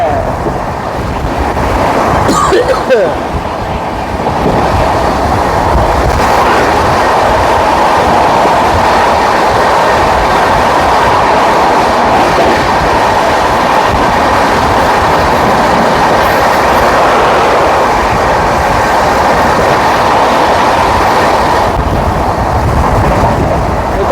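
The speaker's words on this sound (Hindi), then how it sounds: "एक और क्रॉसिंग हो रही है, बैक टू बैक क्रॉसिंग हो रही है" Heard from aboard a passenger train on the Delhi–Ranchi route, another train rushes past at a crossing, producing a loud, steady roar of wheels on rails with heavy wind buffeting throughout.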